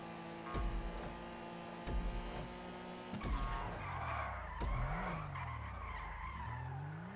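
A car skids through a turn with the e-brake pulled in GTA 5, tires squealing in sweeping pitch slides over a steady engine drone, with several sharp skid bursts spread through the run.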